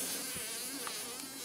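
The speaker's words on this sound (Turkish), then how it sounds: "Yırtınıyor burada, vızıldıyor. Çok ciddi yüksek frekansta sesler çıkarıyor." A green fly buzzing steadily and high-pitched while caught by an Eresus spider, a continuous close whine filling the whole moment without talk.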